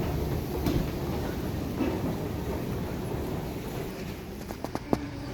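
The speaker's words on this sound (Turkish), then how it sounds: "Mecburen metro ile gideceğiz." A Tehran metro train rumbles steadily, with a continuous low roar and a few sharp clicks and knocks toward the end.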